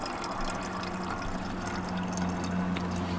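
Water runs slowly from a campervan's water purifier in a VW T3 Syncro, a soft continuous trickle with a steady low pump hum beneath.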